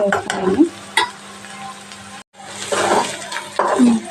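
Onion pieces frying in a pan for a bitter gourd stir-fry, with intermittent sizzling and stirring scrapes in bursts, a brief gap of silence midway, then more sizzle and stirring.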